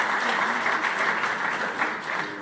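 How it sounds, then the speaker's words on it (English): Audience applause for a former Vice President of the International Court of Justice, dense steady clapping from a large crowd filling the whole moment without a break. "Give her a round of applause."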